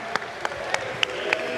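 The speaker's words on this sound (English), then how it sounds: "Can we just give them a massive round of applause?" An audience at a live Super Smash Bros. Ultimate tournament grand final in London applauds, with a dense wash of clapping and a few sharper claps standing out.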